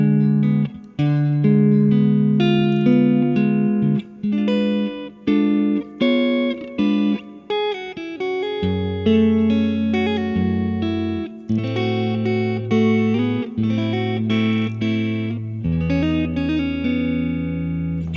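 A busy guitar arrangement of a song plays quick plucked notes over lower chord tones, dense and loud throughout, with a few short breaks between phrases.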